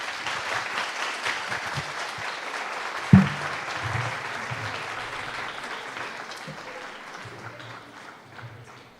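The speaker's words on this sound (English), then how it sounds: "give a warm round of applause for our dear speaker" Audience applause after a talk at an English-teaching convention and language expo in Ecuador, a sustained crowd of clapping with a single sharp knock near the start, slowly thinning toward the end.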